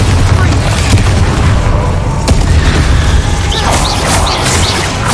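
Bombarda spell explosion in the Hogwarts Legacy video game: a dense, loud booming blast with crashing debris that sustains throughout, under a busy combat mix with brief whooshing effects.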